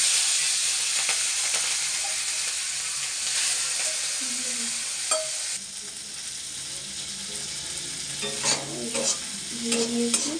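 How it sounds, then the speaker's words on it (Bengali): Chopped onion, green chili and tomato tossed into hot oil after mustard seeds, hissing in a loud sizzle that eases into a calmer steady fry, with scrapes and clinks of stirring near the end. "তেলের মধ্যে দিয়ে দেবো"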